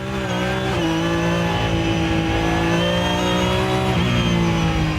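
A Mercedes CLK GTR race car engine revving hard and accelerating, the loud whine climbing in pitch, dropping briefly at a gear shift, then climbing again.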